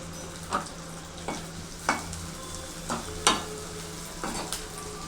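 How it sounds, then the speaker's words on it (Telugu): Onions and two green chillies sauté in a pan, with a soft steady sizzle broken by half a dozen sharp stirring scrapes spaced about a second apart, close but fairly quiet. "ఇలా ఆనియన్స్ కొద్దిసేపు మగ్గనివ్వాలి."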